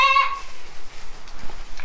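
A goat in farm brush gives a single short bleat at the start, then only faint outdoor background remains.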